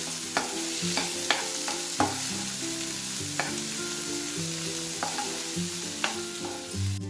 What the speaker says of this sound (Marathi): आता ऍड करूया टोमॅटो आणि कांदा पात छान असं मिक्स करून घेऊ